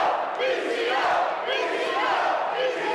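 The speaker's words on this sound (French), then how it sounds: "les acclamations du public." A crowd at a 2006 live wrestling match roars and cheers continuously, loud and dense, with overlapping shouting voices filling the hall throughout.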